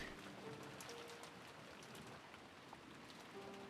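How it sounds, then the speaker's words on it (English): Steady, soft rain patters continuously as ambient sound in the visual novel Umineko no Naku Koro ni, an even, quiet wash of falling drops with no voices. "her head filled with the sound of the rain"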